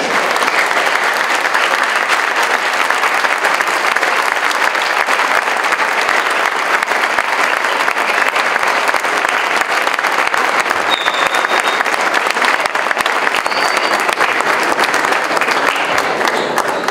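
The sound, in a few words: applause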